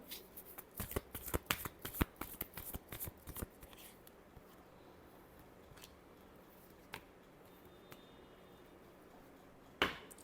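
Tarot cards are shuffled up close in quick, crisp riffles for about four seconds, then a few isolated card snaps and taps follow amid quiet fan hiss.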